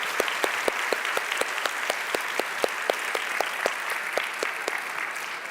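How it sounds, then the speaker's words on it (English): Applause from an audience honouring contributors at a Yom Kippur symposium, a steady wash of many hands clapping with sharp regular peaks, moderately loud and continuous with no voices. "A round of applause for all of our contributors."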